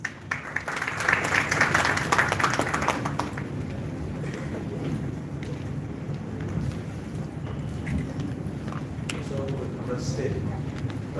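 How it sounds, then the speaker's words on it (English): An audience at an international conference on MSME participation in public procurement applauds, a steady wash of clapping that swells early and then holds at a moderate, even level. "big round of applause"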